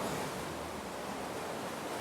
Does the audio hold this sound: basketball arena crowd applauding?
no